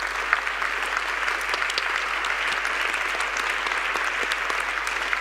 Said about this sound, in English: And a big applause to them